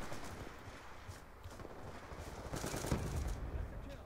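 Distant rapid gunfire from a Black Ops 2 match played with a DSR sniper rifle, bursts of shots over game noise, fairly faint, with heavier firing near the end.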